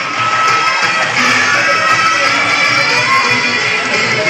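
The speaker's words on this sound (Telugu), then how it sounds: "శ్రీ పత్తి ఓబులయ్య నంది అవార్డు గ్రహీత, వారికి గట్టిగా చప్పట్లతో మనము మన హర్ష ఆమోదాలను తెలియజేద్దాం." An audience at a Sadguru Tyagaraja Aradhana cultural festival in Kurnool gives loud, dense applause mixed with cheers and shouts, a continuous roar of clapping throughout.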